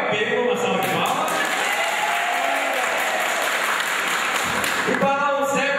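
Audience at a talk-show event for elderly people in Guaporé, RS, applauding in a dense, continuous burst of clapping that fills the hall, with brief voices breaking through near the end.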